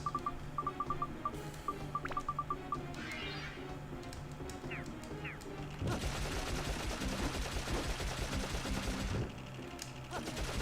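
Rapid machine-gun fire from the video game Dark Cloud rattles in dense bursts, joined by game effects and chirping sounds, with a louder sustained volley in the middle section.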